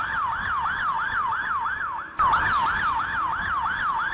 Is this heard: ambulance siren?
yes